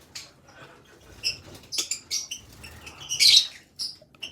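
Pet parrots chattering in short bursts of sharp chirps, squeaks and scratchy calls, close and irregular over a quiet background, with no talk.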